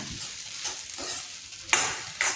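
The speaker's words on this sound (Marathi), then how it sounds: "चला तर मग शेंगदाण्याच्या कूटाला एकजीव करून घेऊया।" Sabudana khichdi being stirred with crushed peanuts in a pan, with soft scraping strokes over a faint sizzle, and a few sharper spoon scrapes near the end.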